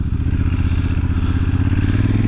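A Honda Africa Twin DCT Adventure Sports CRF1000L2 parallel-twin engine drones steadily under the rider, a loud, close, throbbing exhaust note held at moderate revs without a break.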